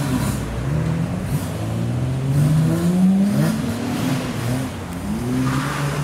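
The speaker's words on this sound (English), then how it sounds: "We've got the V12 Vantage, Sierra RS Cosworth, and an XR4i all leaving the show." Classic cars leaving a car meet, including an Aston Martin V12 Vantage, a Ford Sierra RS Cosworth and a Ford XR4i. Engines rumble and rev as the cars pull away, with rising and falling tones and fairly loud nearby passes.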